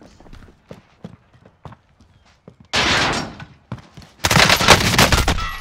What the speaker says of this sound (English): There's another sniper shooting at me, bud.